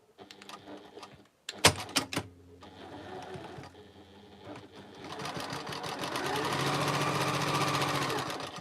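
Sewing machine stitching the ends onto a chain quilt block, a short burst and pause, then a long steady run of rapid needle clatter building louder toward the end.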